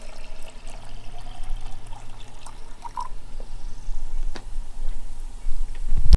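Acid bubbles against a pool salt cell during cleaning, making a soft, uneven fizzing and trickling with occasional drips and small knocks, growing a little louder near the end.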